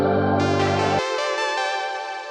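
Synthwave lead synth with the highs cut, a bright, buzzy sustained tone over a low layer that drops out after a second, leaving the lead to hold and slowly fade.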